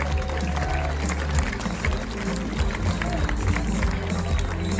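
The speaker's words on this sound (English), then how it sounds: "Let's give them a round of applause." Audience applause for America's Cup sailing teams at a Barcelona team presentation, a dense steady clapping that stays even throughout, with a low rumble beneath.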